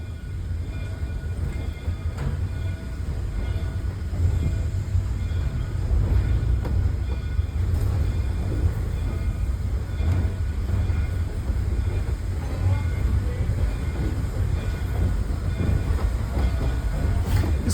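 Inside a caboose cupola riding behind a Shay geared steam locomotive at the Illinois Railway Museum, a steady low rumble of wheels on rail with faint rhythmic clacks and rattles, continuous and close, with no talking.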